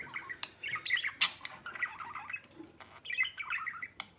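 Budgerigar chicks and their parents chirp and squawk inside a cage, a busy run of high, scratchy calls arriving in bursts with short pauses, close and moderately loud, with no talking.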